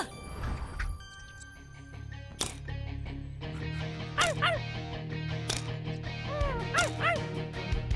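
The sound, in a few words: dog barking and whimpering in a children's cartoon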